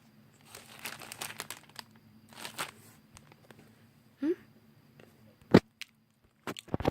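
A wrapped chocolate custard cream bun being torn open: bursts of crinkling plastic wrapper, a few short rips and sharp crackles separated by quiet pauses, close and fairly soft.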